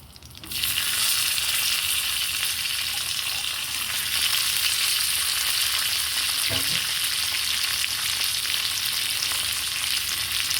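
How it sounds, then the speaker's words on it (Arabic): Food frying in a pan gives a loud, constant sizzle that starts suddenly and holds steady throughout, with a faint clink of a utensil partway through. "وهحمر ده بقى، لما يتحمر ان شاء الله هطلعه"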